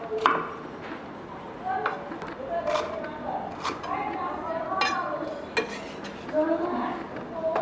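A knife chops chili, bay leaves, galangal, garlic and shallots on a board in a home kitchen, with irregular nearby thuds and taps running throughout, mixed with light clinks of utensils and a voice speaking over it.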